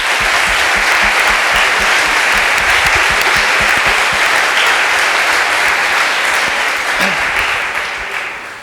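Sustained, loud audience applause honoring event organizers fills a large hall, a dense steady wash of many hands that holds evenly before tapering slightly at the end.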